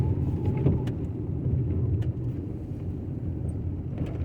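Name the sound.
car driving on a road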